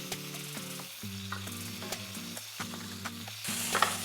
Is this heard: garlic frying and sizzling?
yes